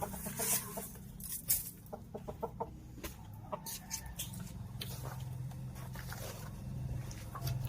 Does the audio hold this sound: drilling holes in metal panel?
no